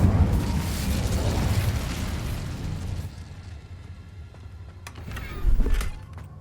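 An Incendio fire spell cast in the video game Hogwarts Legacy bursts out with a loud roaring whoosh, then fades into a low rumble before a second sharp fiery blast flares near the end.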